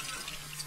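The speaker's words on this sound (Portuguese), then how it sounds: "Na verdade é pra pular a água que tá saindo ali. Tá jorrando, né?" Gushing water in the LEGO The Incredibles video game, a brief steady hiss of flowing liquid with a faint underlying hum.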